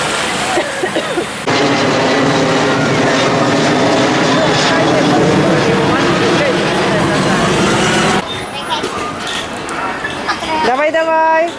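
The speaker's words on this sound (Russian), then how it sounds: "у нас здесь все время взлетают самолеты" A jet airliner taking off near Adler airport in Sochi gives a loud, sustained engine roar that fills most of the stretch, with voices talking over it before the sound cuts away.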